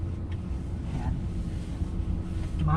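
Wind blows outside near a Manila-bound expressway, a low steady rumble with gusts buffeting the microphone, while traffic and faint background noise pass.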